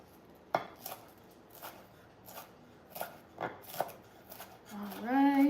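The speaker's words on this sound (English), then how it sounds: "chop, chop, chopping" A knife chops potatoes on a cutting board in a home kitchen, giving a few sparse, irregular thuds with gaps between them, and a louder scraping sound at the end.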